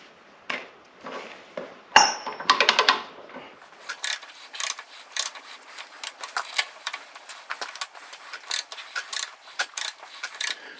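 Ratchet pipe threader cutting threads onto a gas pipe, giving a run of sharp metallic clicks and scraping strokes in an uneven rhythm, close and fairly loud, with one brighter clank near the start.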